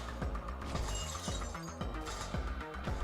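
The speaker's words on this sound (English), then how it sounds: "There are a bunch of glass panels that you can get shot through" Glass panels shatter when shot in a video game. Repeated sharp crashing bursts and tinkling fragments come in quick succession over dense, loud game sound.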